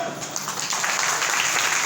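A church congregation claps steadily, building after a softer start into a dense, sustained round of applause with no voices on top.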